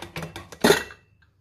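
A few short metallic clanks and scrapes, then a louder clatter as the heavy lid comes off a pressure cooker after its pressure is released, followed by quiet.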